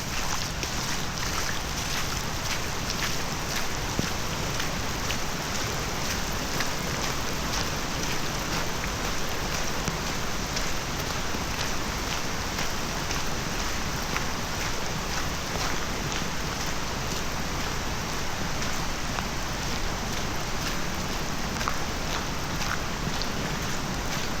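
Heavy rain on a rainy day in Japan falls in a constant, loud wash of water that stays even for a long stretch, with a few sharper drip ticks and no speech.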